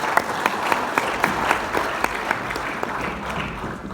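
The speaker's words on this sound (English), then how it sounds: "Let's give them both a huge round of applause as we welcome them." A conference audience in Cape Town gives a round of applause to welcome presenters, brisk steady clapping from many hands with several sharp nearby claps in a regular rhythm, slowly easing toward the end.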